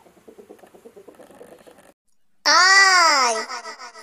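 After some soft, babbling chatter, a hen lets out a loud, drawn-out squawking call that rises and falls, close and clear.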